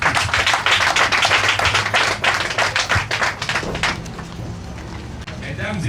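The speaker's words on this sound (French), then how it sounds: "Veuillez rendre grâce à Dieu avec nous en applaudissant ce magnifique" Loud, dense applause from the audience at the opening ceremony of the Zogbodomey agency, steady rapid clapping that thins out and fades toward the end.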